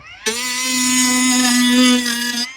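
A steady, high-pitched motor whine from a Dnipro-M angle grinder spins up abruptly and holds at constant speed for about two seconds before cutting off.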